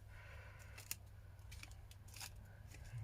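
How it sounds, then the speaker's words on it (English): Scissors trim excess paper while making a junk journal pocket envelope, giving a few faint, quick snips close by in a quiet room. "and then we can trim off the excess."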